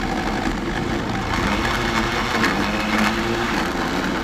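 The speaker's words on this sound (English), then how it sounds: "turn on this switch of the blender" A kitchen blender runs steadily while making pineapple juice, giving a loud, continuous motor whir and churning that stays even throughout, with no speech.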